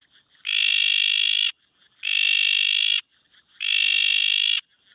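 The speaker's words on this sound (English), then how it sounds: "Then we have the bleating tree frog, which is a common backyard frog on the eastern coast of Australia." A bleating tree frog, a common backyard frog of coastal eastern Australia, gives three long, piercing nasal bleats at even intervals, loud and close, with near silence between them.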